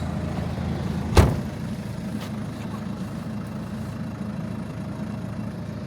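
A car engine idles steadily outdoors on a frosty winter morning while the car is being defrosted, a low continuous hum broken by one sharp knock early on and a fainter one later.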